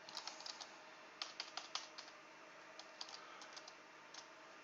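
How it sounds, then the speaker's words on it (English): Quiz questions being typed on a computer keyboard while a quiz show is set up: quick bursts of close, light key clicks with brief pauses between them. "You've got your question, you type it into that."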